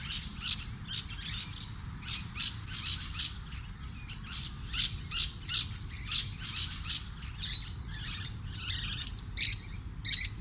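Musk lorikeets calling, a rapid series of shrill, screechy chirps repeating in quick bursts over a low rushing background, several birds fairly close.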